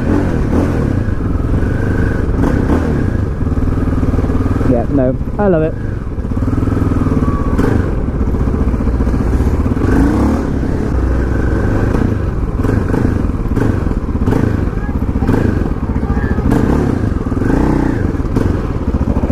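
A KTM LC4 640 single-cylinder motorcycle with an aftermarket exhaust runs loud and close at a steady idle, with a brief rev midway, while a rider talks briefly over the engine.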